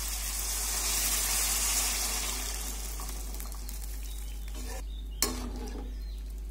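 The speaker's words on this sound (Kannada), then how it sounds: "ಇದಕ್ಕೆ ನೀರು ಹಾಕ್ತಾ ಇದ್ದೀನಿ." Water is poured into a pot of cooked field beans (avarekalu), making a loud, continuous rushing gush that gradually eases, followed by a single brief clank near the end.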